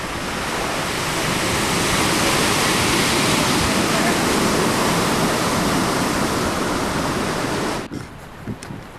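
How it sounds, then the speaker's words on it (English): Rough, roaring water rushes loud and constant, like a boat crashing through river rapids, then cuts off abruptly near the end. "Turning the boat around and into the waves creates a wild river water adventure"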